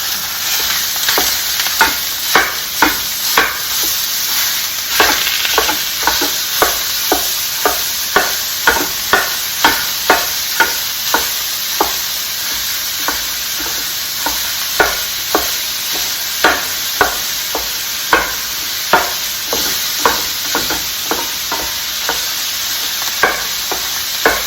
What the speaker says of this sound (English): Let me toss in that beef into this hot skillet with just a little bit of olive oil I had.